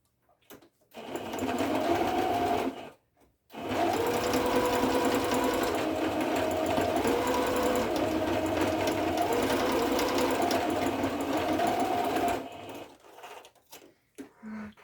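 A sewing machine stitches paper clusters into a handmade journal, running steadily and close for about nine seconds after a short burst, with brief pauses at start and end.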